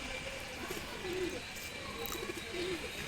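A pair of gola kosha Dudh Khaki pigeons coos softly at close range, with low, rolling calls repeating every second or so over a steady background hiss.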